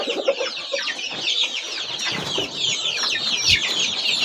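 A crowd of chicks and hens clucks and peeps continuously, a busy chorus of overlapping calls close by, with light rustling underneath.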